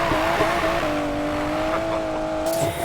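An Aston Martin DB11 in Need for Speed Payback drones at a steady high rev, its engine note holding a sustained tone with slight rises, loud and close, tapering near the end.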